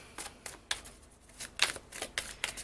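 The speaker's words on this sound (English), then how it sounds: "you don't have to stay throughout the whole shuffling process" A deck of tarot cards being shuffled by hand, a string of crisp riffling bursts with short pauses between them, close and fairly quiet, no voices.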